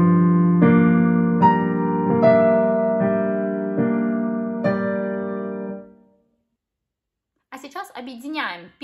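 Piano playing the right-hand part of the second section of the Liquidation TV series theme, a slow melody of sustained notes struck about once a second for six seconds and then fading. A brief stretch of speech follows.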